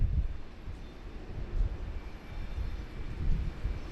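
Bamboo Airways airliner lining up on the runway at Sydney Airport, a distant, low steady engine rumble with no talk.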